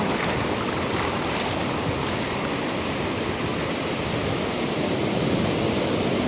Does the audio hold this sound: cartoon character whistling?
no